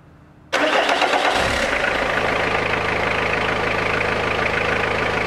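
A car engine, just fitted with a new damper pulley, cranks and fires abruptly after a moment of quiet, then settles into a loud, steady idle heard alone.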